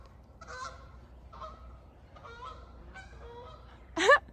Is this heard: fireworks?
no